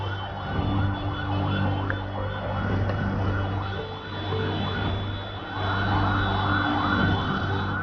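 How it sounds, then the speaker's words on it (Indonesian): Fire truck sirens wail continuously as more than 60 fire engines respond to a night blaze at a prosecutors' headquarters, with a constant rumble of engines and traffic beneath. "lebih dari 60 mobil pemadam kebakaran dikerahkan untuk memadamkan api di markas Korps Adiaksa ini"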